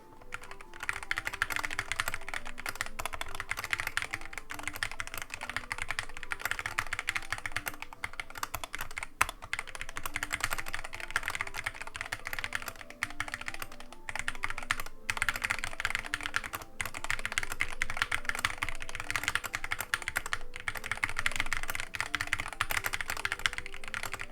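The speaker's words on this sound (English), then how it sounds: "So let's move on to a quick typing test." Fast typing on a Wooting 60HE+ keyboard, with dense, rapid clacking keystrokes in a continuous run at close range and only brief pauses, no voices over it.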